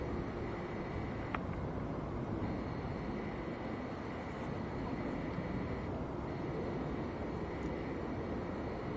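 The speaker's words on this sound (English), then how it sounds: "Next departure is going to be a Eurowings going out to Dusseldorf. That is lined up and ready to roll at the moment." A Eurowings jet lined up for departure to Dusseldorf at Manchester Airport fills the air with a steady, broad engine roar that holds at an even distance throughout.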